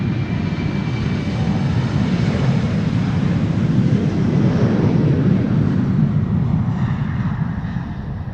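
A KLM Embraer 190 departs Amsterdam Schiphol for Stavanger, its jet engines a loud, steady broadband roar held close and continuous from start to finish on a calm sunny day.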